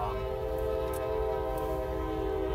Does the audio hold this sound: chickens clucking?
no